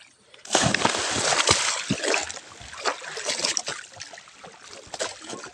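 Water is poured out and splashes heavily in bursts, loud and close, with sloshing and spattering that continue throughout; no one speaks over it.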